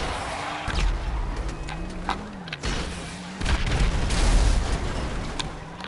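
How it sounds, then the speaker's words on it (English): Bomb explosion in a video game, a deep booming blast with rumbling low end that swells and lingers over several seconds among further muffled booms, loud and close. "Threw another fucking bomb."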